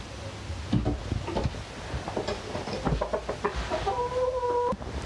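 Chickens cluck steadily inside a coop housing a flock of 32 birds, with overlapping close and mid-distance clucks and short squawks, plus a drawn-out call toward the end.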